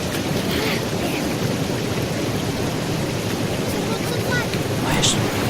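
Continuous rushing water of a waterfall in the audio game A Blind Legend, a steady broadband roar filling the whole clip at constant loudness, with a faint voice briefly audible over it.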